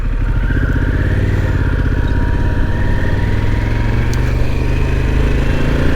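A motorcycle engine runs steadily up close, a loud continuous rumbling drone with a rapid pulsing beat and a slowly shifting pitch, captured during a microphone test with no talk.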